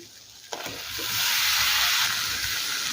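Fried potato and okra pieces drop into hot frying masala, a sharp thump followed by a loud, sustained sizzle that swells and holds steady, with faint stirring underneath.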